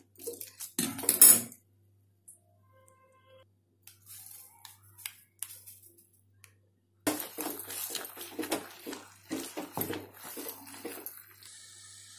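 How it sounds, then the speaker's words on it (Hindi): Metal utensils scrape and clink against a kadhai while mashing vegetables for pav bhaji, in short, irregular bursts, with quiet gaps between spells of clattering close by. "तो इसको हमको अच्छे से मैश करते रहना है"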